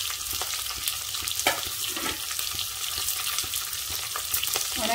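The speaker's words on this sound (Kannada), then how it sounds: "ಈರುಳ್ಳಿ ಕಟ್ ಮಾಡಿ ಇಟ್ಕೊಂಡಿದ್ದಲ್ಲ ಈಗಿಂದ ಹಾಕೋಣ" Chopped onions sizzle and crackle in hot oil in a pan for raw mango rice (chitranna), a steady close fry broken by scraping and stirring taps.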